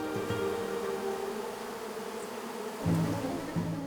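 Honey bees swarm and buzz densely around hives during a robbing frenzy in the mountains above Manilva, Spain, a continuous near drone with shifting pitch and no voices.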